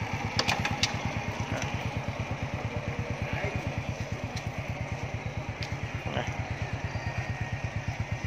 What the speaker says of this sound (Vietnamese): Em nghe thấy cái máy không?